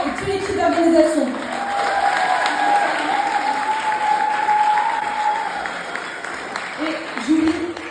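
Audience at a talent show applauding loudly and continuously, a thick wash of clapping with crowd noise and some voices mixed in, swelling briefly at the start and again at the end.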